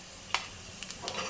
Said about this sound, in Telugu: మంచిగా తాలింపు వేసేసుకొని దీనికి మనం మిక్స్ చేసుకోవటమే